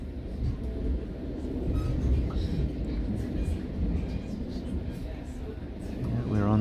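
Interior of a moving GO Train commuter train, with a steady low rumble and rolling rail noise throughout and a person talking at times over it.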